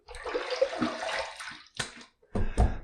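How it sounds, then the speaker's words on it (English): Water is splashed onto a face with cupped hands before shaving, a close, wet splashing burst of about a second and a half, followed by two shorter separate splashes after brief pauses. "let me wet the face once more"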